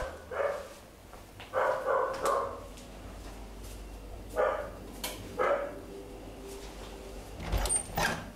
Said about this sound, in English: our dogs are barking quite a bit